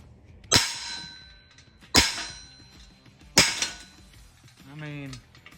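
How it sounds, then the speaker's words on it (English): Three sharp metallic clangs of a hammer striking a metal car part at even intervals, each ringing briefly, followed by a short voice. "What I'm gonna do now is hit this with a hammer"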